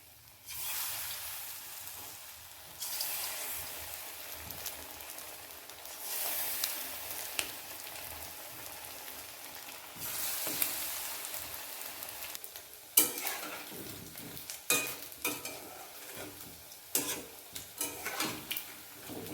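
Boiled chicken pieces frying in hot oil in a pan, one batch at a time, with a steady close sizzle and occasional clinks and stirring scrapes, louder bursts later as pieces go in.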